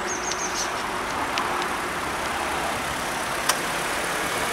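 A 2003 Ford Fusion 1.4 engine idles quietly with a steady low rumble, accompanied by faint high-pitched squeaks and a single brief click as the air conditioning kicks in.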